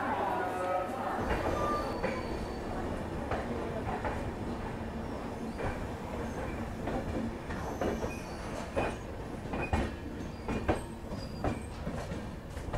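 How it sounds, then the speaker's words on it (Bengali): The Jammu Tawi Express pulls out of Bareilly Junction, its carriages rumbling and wheels clicking over the rails under steady onboard noise, with people talking over it. "ছেড়ে দিল আমাদের ট্রেনটি বারেলি জংশন থেকে"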